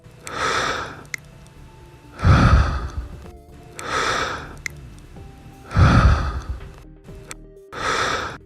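Heavy, close-miked breaths alternate in and out, about five slow rasping inhales and exhales in a steady rhythm.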